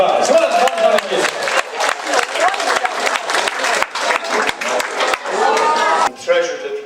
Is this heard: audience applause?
yes